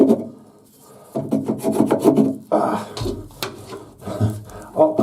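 A file rasps a chamfer into the end of a bath waste pipe, making close, loud scraping strokes in uneven bursts separated by short pauses.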